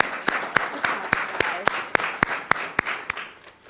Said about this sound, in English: One more round of applause for our students.